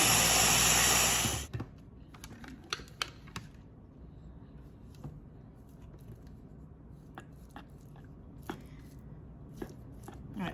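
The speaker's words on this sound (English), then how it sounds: "Now let's blend it up." A kitchen blender roars loudly for about a second while blending a keto mixture of pine nuts, olive oil and kosher salt, then cuts off, leaving faint clicks and taps.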